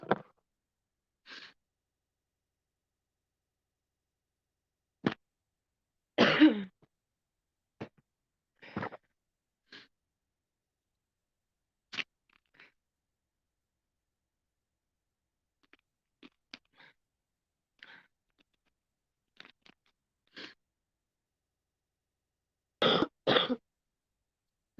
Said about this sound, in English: Gosh, I wish this cough would go away.